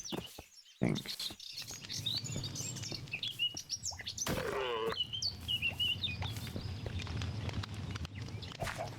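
Bird chirping from inside the walls of a house in modded Minecraft, a stream of small tweets and calls over soft steps and thumps.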